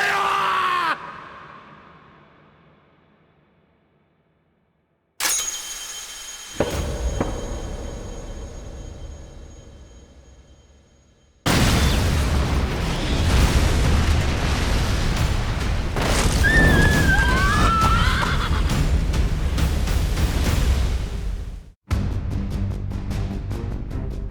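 A loud, sustained rumbling anime explosion fills the soundscape, with screeching tones and roaring noise over it, then abrupt cuts between dramatic sections.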